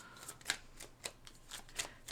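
Soft papery riffles and flicks of tarot cards being shuffled close up, several quiet bursts spread across a short, otherwise hushed moment.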